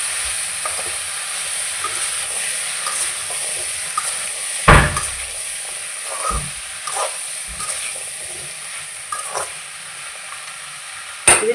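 A vegetable mixture sizzles in a pan as it steam-cooks without added water, a constant hissing fry broken by occasional stirring scrapes and clicks, close and fairly loud with no talking.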